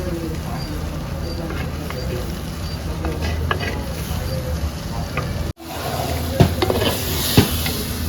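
Country chicken curry being stirred and fried with spices in a pot, Andhra style, with a steady sizzle, scraping strokes and a few louder clanks of the spoon, while a voice talks over it.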